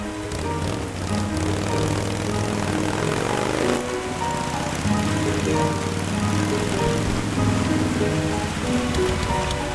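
Cartoon rain in the animated Ratz series: a dense, steady hiss of falling rain layered with a droning, engine-like hum and tonal music, constant from start to finish with no speech.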